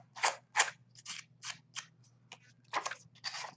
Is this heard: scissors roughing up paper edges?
yes